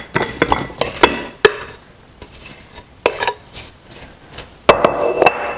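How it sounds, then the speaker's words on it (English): Apple slices dropped into a ceramic pie plate, giving a run of sharp, close clinks and knocks in irregular bursts separated by brief quiet pauses. "So we're going to put our apples right inside the pie plate."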